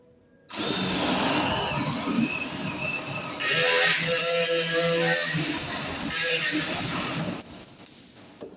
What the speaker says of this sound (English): now we can drill our hole to get our wire over to the switch.